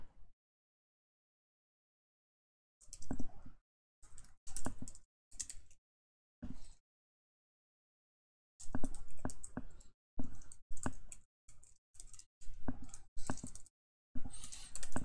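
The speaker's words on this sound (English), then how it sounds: "Let me just type in here." Bursts of typing on a computer keyboard come up close, with clustered clicking keystrokes separated by short pauses and quiet gaps. No voices are heard.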